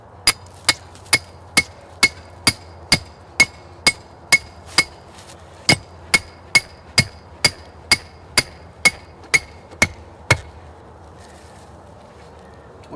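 An 18 inch rebar stake is hammered into the ground for a trap: about twenty sharp, evenly spaced metallic strikes ring out close by in steady rhythm, then stop, leaving quiet outdoor background.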